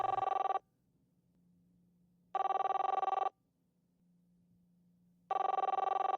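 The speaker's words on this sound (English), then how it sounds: "Ringing the police department." A telephone rings on the line while a call is put through to the police department, with three loud bursts of harmonic ringing separated by pauses of quiet line hum.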